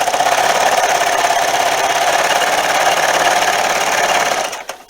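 A sewing machine stitching binding onto a quilt, a loud, close, steady mechanical whir with a rapid needle rhythm that runs unbroken, then slows and stops at the end.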